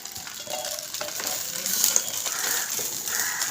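A banana-leaf-wrapped gourd and prawn paturi sizzles on a hot griddle in a village kitchen, giving a steady crackling hiss with occasional clicks and scrapes.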